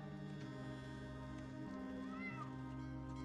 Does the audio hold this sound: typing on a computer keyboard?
no